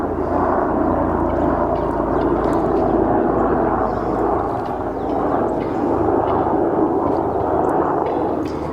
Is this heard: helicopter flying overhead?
yes